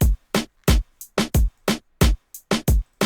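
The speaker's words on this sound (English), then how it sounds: "I added on a simple hi-hat bounce," Programmed hi-hat bounce in a reggaeton-style beat, with every other hit at lower velocity: a steady run of crisp, bright ticks alternating loud and softer accents, alone with no talk.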